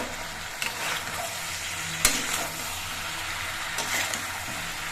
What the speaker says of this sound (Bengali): নুন হলুদ দিয়ে সবজিগুলোকে মিশিয়ে নিতে হবে